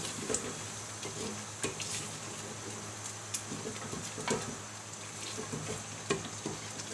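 Spice masala sizzles and crackles steadily while being roasted in a pot for Lahori chickpea curry, with occasional stirring scrapes over a continuous frying hiss.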